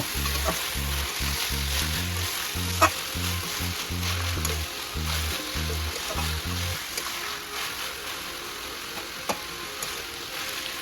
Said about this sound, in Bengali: এর মধ্যে এবার চাল কুমড়োটা তুলে দিচ্ছি, দিয়ে ভালো করে মিশিয়ে দেব।